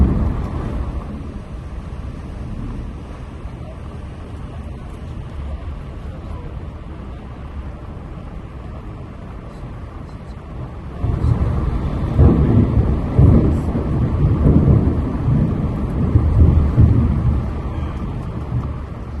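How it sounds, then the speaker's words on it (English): Steady heavy monsoon rain hiss, with low rumbling thunder swelling partway through and rolling on for several seconds. "If you listen carefully, you might be able to hear the thunder."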